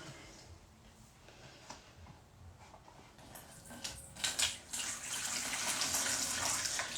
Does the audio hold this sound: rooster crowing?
no